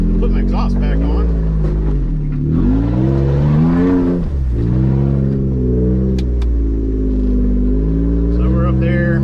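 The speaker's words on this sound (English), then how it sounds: "But I did knock my exhaust back off. So that's gonna be loud." A Jeep with its exhaust knocked off runs loud while off-roading on a mountain trail, a heavy, steady engine rumble that swells as it revs, holding close and dominant throughout.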